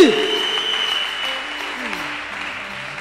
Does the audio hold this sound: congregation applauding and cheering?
yes